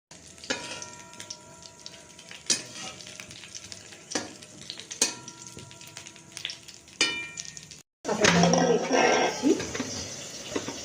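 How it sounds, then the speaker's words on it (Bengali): Eggplant slices sizzle steadily in oil in a pan while a utensil clinks and scrapes now and then; after a short break the frying grows louder and busier. "এটা ভাজা হচ্ছে"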